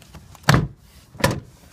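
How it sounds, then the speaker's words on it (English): Plastic interior door panel clips popping loose as the panel of a Subaru Impreza is pried off with a putty knife wrapped in a rag. Two sharp, close snaps about three-quarters of a second apart, with quiet between them. "And then just pry around the door to pop it loose."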